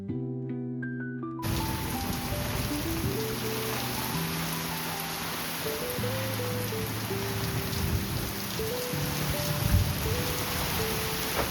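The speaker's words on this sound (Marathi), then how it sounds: "पाऊस पडतो आणि तेव्हा मातीचा हा सुगंध खूप छान असतं गावचं" Steady heavy rain pours down on a village, with a dense, constant hiss. A melodic musical tune plays over the downpour throughout, after a brief musical opening.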